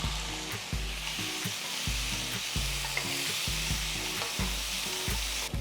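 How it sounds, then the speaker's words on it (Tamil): Chopped tomatoes sizzle in a hot pan while a spoon scrapes and stirs in a regular rhythm, close by and continuous, with no voices. "நெக்ஸ்ட் 3 பொடியா நறுக்கின தக்காளி போட்டு வதக்குங்க"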